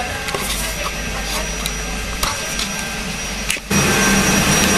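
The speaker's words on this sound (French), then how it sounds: "Et oui, c'est le bruit de l'aspirateur," Broadband mechanical roar of a vacuum cleaner running throughout a watercolour exhibition in a sheepfold in Corsica, with scattered clicks and knocks, then a brief dip before it surges louder.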